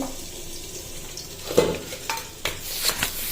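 Washed neem leaves land in hot oil in a home kitchen and set off a soft sizzle, with a few stirring scrapes and utensil clinks close by over a quiet frying hiss.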